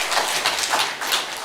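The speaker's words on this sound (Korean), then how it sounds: "박수 주님께 영광의 박수" A church congregation applauds during a Sunday worship service, the clapping dense and steady throughout, close and moderately loud, with no speech over it.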